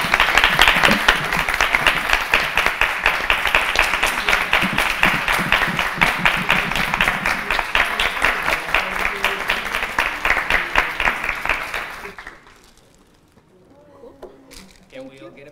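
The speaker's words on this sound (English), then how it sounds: "Final round of applause, everybody." A final round of audience applause at the close of a talk, long and sustained with dense clapping from a room full of people, then breaking off into quieter chatter.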